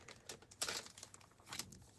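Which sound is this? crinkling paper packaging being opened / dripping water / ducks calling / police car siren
crinkling paper packaging being opened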